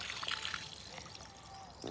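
Water flows out of a borewell outdoors as a faint, steady trickle and pour with a soft broadband wash and no talking.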